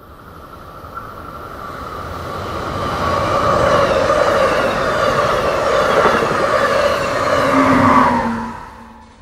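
An Amtrak train arrives at a station on the Keystone Corridor, its rumble and rolling roar swelling loudly over several seconds, holding, then easing off as it slows near the end.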